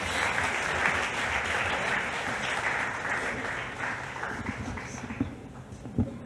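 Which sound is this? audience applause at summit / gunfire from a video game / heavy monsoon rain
audience applause at summit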